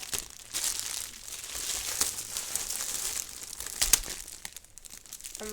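Tape is torn off the packaging of a Kinder Maxi surprise egg, quiet close crinkling and ripping with a few sharp tearing spikes, no voices over it.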